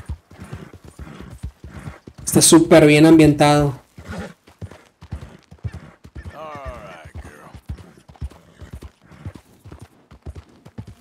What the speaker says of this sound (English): el sonido de los pasos del caballo, de las pisadas